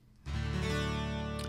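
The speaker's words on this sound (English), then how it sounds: "So that's the sound of the 12 string," A Line 6 Variax modeling guitar set to emulate a Martin D28 12-string acoustic, strummed once near and loud, its doubled strings ringing out full and bright as the chord sustains with no talking.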